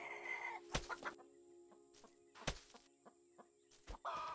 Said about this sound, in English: let's say good morning to all the hens